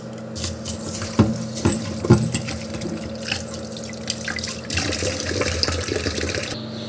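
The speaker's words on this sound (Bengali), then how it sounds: "ডালটাকেও ভালো করে ধুয়ে নিই" Masoor lentils are rinsed in water, with splashing, sloshing and dripping close by as the dal is swirled and washed, a running-tap wash underneath.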